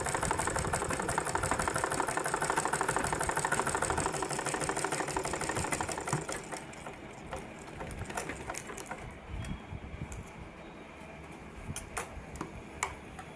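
A sewing machine runs stitching a seam, a rapid, even mechanical ticking that holds loud for about six seconds, then drops to quieter intermittent clicks and handling.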